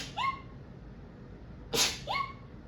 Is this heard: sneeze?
yes